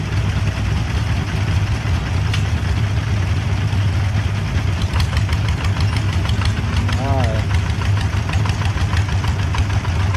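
TF150 DI diesel engine idling, a steady low rumble that continues without a break and sits close and loud, with someone talking over it.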